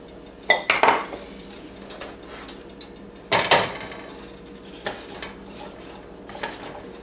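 Metal spoon scraping and clanking against a pot while refried beans are mashed and stirred, with a few sharp bursts of clatter between quieter scraping, close and alone.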